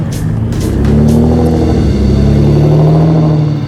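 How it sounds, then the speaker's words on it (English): An Aston Martin DBS V12 with a straight pipe exhaust and no catalytic converters roars loudly and close on the road, its deep steady drone rising slightly as it pulls, with no talk over it. "I hope you can hear me right now above the V12 sound."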